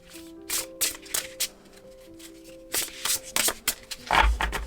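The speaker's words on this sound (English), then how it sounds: "Yes, I take my time shuffling." An oracle deck of cards being shuffled slowly by hand, a series of crisp riffling bursts and soft taps separated by pauses, close and quiet, with a faint sustained tone in the background.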